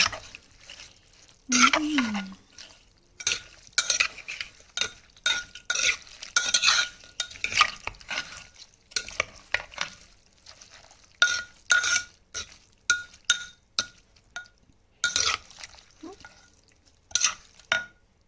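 A spoon stirs noodles in a pot or pan, giving repeated short scraping and clinking strokes in an irregular rhythm between brief pauses. A faint sizzle sits underneath, and a quick vocal sound is heard near the start.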